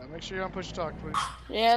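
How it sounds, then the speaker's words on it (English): A dog barks and yips in the background over an open voice-chat mic in an American Truck Simulator session with a Volvo VNL 780, short sharp bursts mixed in with people talking. "That was a dog."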